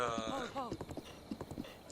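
Rhythmic clip-clop of horse hooves in The Legend of Zelda: Breath of the Wild, a steady trot running under continuous talking, with a brief harmonic whinny-like tone near the start.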